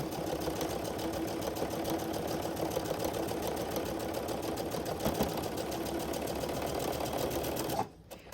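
A sewing machine with a metal-edged foot stitches quilt pieces along a quilting template edge, a rapid, steady mechanical whir close to the mic that runs continuously before stopping abruptly near the end.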